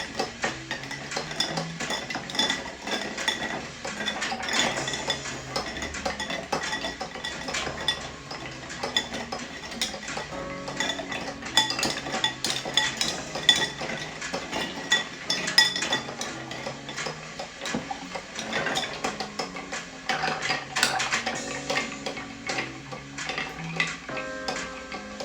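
Bar spoon stirring a Sazerac cocktail in a mixing glass, giving a steady run of light metallic clinks and ticks that continue without a break for the whole stretch, fairly close, with no voices.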